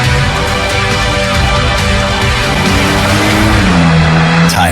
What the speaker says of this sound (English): The new Porsche 911.